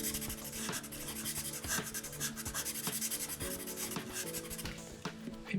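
Marker or pencil rubbing steadily back and forth across paper while colouring in a Fortnite Shogun X drawing, a close, continuous scratchy shading sound with no talking.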